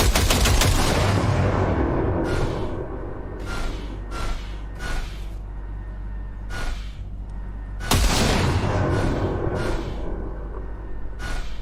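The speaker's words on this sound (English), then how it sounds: "Fire a short burst into it." Video-game gunfire in Cyberpunk 2077 during weapon calibration at a pile of junk, several sharp rapid bursts and single shots with echoing tails, loud and close.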